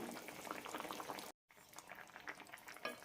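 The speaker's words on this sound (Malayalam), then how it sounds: "കറി തിളയ്ക്കാൻ തുടങ്ങിയിട്ടുണ്ട്" A pot of drumstick tamarind curry made without coconut bubbles softly and steadily on the stove, the faint boiling cut off by a short silent gap before it resumes.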